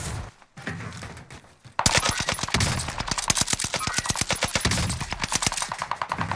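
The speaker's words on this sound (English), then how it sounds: "One shot off of Blizzy" Gunfire in a video game with the Marco 5: a short opening burst, then a long, loud, rapid run of automatic shots that fills most of the clip.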